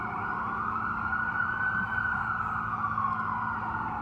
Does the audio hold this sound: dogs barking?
no